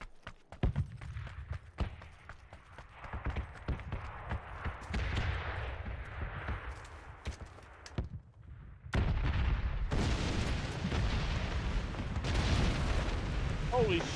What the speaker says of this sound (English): Explosion in the air.